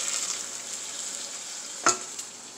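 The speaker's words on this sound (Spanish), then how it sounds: "Así lo vamos a pasar con el aceitito." Food frying in a little oil in a pan, a steady soft sizzle with one brief clatter of stirring near the end, no talking.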